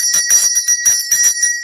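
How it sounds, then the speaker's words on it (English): A small bell rings in a quick run of bright, ringing strikes that sustain a high shimmering tone, close and clear. "Ring the bell."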